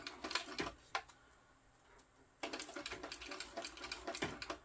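A sewing machine stitches a side seam on a fabric crossbody bag in two close, rapid runs of mechanical clatter, with a short quieter gap between them.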